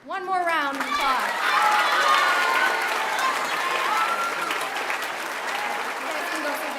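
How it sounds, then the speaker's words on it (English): After a brief spoken line, an audience at a middle school eighth grade promotion ceremony breaks into loud, steady clapping that fills the hall and continues to the end. "One more round of applause."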